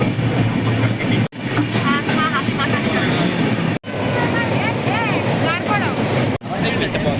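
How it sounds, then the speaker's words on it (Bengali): A passenger train on a journey to Digha station, with steady loud rumble and rattle throughout, interrupted by three brief dips, and people's voices running under the noise. "ট্রেন জার্নি তোমার কেমন লাগছে?"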